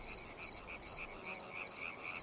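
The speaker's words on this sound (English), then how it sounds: "Emerald green tree frogs," Emerald green tree frogs croaking in a rapid, repeating rhythm of short raspy pulses, steady and fairly close over a quiet background with no voices.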